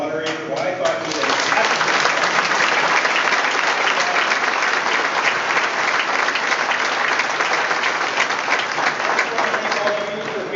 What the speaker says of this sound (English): how about a round of applause for our moderator